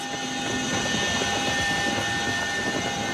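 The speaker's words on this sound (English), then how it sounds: "people in the village would be able to hear the pounding chopper blades" Helicopter approaching a village in Afghanistan during a military operation, its blades giving a steady, loud, continuous drone with a constant whine and a low rumble throughout, with no voices.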